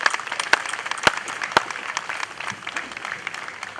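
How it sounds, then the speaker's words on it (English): Applause from a Memorial Day parade and Garden of Honor ceremony crowd in Hillsborough Township, New Jersey, honoring veterans: steady, dense clapping across the whole stretch with a few sharper individual claps standing out, no talking. "a round of applause for them too"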